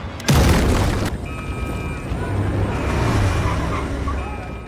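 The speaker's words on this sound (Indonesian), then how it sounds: "Baker terpaksa meledakkan dinding belakang untuk jalur evakuasi." A loud film explosion blows out a back wall, a sudden heavy boom followed by a long rumbling roar that slowly fades, with a faint voice beneath.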